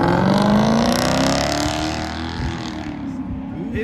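A new car's engine revving loudly up to a rising whine, then easing off into a lower, steadier drone as it fades slightly.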